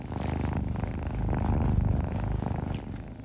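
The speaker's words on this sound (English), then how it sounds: "let's begin with a pile of kittens purring" A pile of foster kittens purrs close up, a warm continuous rumbling drone that swells slightly in the middle and holds steady with no voices.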